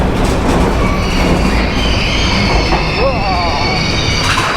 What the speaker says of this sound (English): Big Thunder Mountain Railroad.